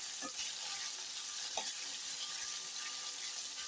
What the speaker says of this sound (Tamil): இதை நல்லா வதக்கிக்கலாம் இது நல்லா வதங்கட்டும்